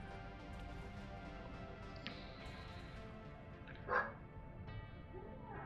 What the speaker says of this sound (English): I will apologise if you can hear a dog bark in the background